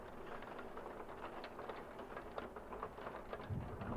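Steady rain hisses without a break, and a low rumble of distant thunder swells briefly near the end.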